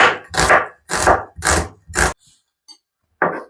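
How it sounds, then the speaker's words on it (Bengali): A knife on a board chopping onion, ginger, garlic and green chilli: five loud, evenly spaced cuts in quick rhythm, a short pause with faint taps, then one more chop, up close with no talk. "তো এইভাবে চপ করে নিয়ে এতে সব মিক্স করে নেব।"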